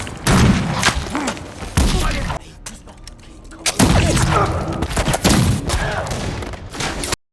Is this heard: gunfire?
yes